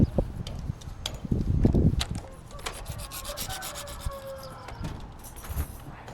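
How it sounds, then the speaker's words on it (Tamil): Harsh rhythmic grinding and rasping strokes as a concrete pipe is cut, with scattered knocks and a faint whine in the background. "சசிகுமார் அவர்கள் பைப்பை சரக் சரக் என்று அறுத்து சொல்லிக் கொண்டிருக்கிறார்"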